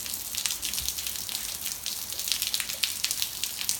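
Steady rain falls outdoors near a swimming spot, a dense, even hiss of drops pattering on surfaces nearby with no voices.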